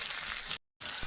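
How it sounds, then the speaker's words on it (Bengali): Chilli fries in hot oil in a pan for a fish curry, a close, bright sizzle interrupted by a brief silent gap before the crackling resumes. "একটু পরে এটাতে জল দেবো আর একটু ভালো করে ভেজে নেবো।"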